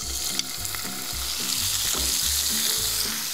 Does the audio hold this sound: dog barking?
no